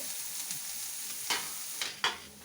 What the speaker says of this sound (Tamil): இப்போ வெங்காயம் நல்லா கொஞ்சம் வதங்கிடுச்சு